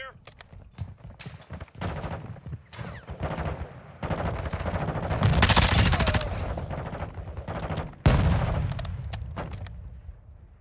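Rapid bursts of gunfire crackle and pop almost continuously, with heavier volleys building in the middle and a sharp crack near the end, in Call of Duty: Warzone 2.0 DMZ.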